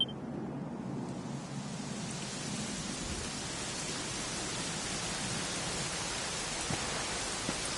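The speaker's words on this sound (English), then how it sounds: "it was raining like this the last time I ever saw her." Steady rain hisses evenly in the Dragon Quest XI video game, a soft continuous wash of falling water at low volume, heard alone with no talking.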